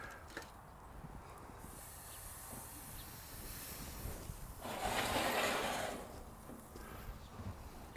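A wagyu ribeye steak sears on an SNS Master Kettle grill with a steady close hiss and sizzle. The sound swells into a louder spitting burst partway through and then settles back, with no talking.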